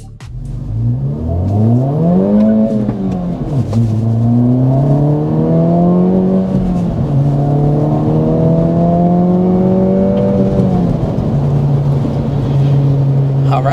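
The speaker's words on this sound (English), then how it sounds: "It's a good flat road for a good acceleration in this all-new Integra Type S." A 2024 Acura Integra Type S accelerates hard on a flat road, its engine note climbing steadily through the gears with brief dips at each shift, loud and close from inside the car.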